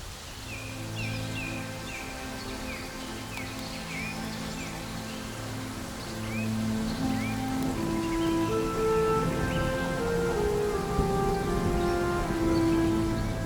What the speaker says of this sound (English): Just at the shift changeover,